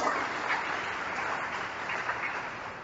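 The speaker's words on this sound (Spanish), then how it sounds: "Denle fuerte el aplauso al Rey." A church congregation applauds during a service, a continuous, even roar of many hands clapping together at moderate loudness with no break.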